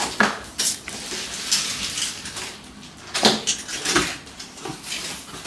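Breaking the seal and opening the cardboard box of an Oraimo blender: a sequence of crisp tearing, crinkling and handling sounds up close, with sharper bursts near the start and again around the middle.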